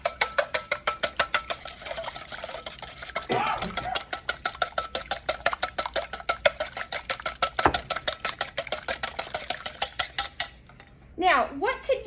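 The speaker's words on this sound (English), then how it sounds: "take my eggs and whisk those up" A whisk beats eggs in a bowl, loud rapid rhythmic clinks and taps against the side, fast and steady, then a short pause and a few scrapes near the end.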